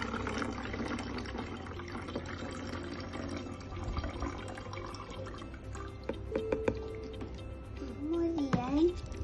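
Water poured into a container for a homemade lava lamp, a continuous soft trickling and filling sound under someone talking, with a few clinks near the end.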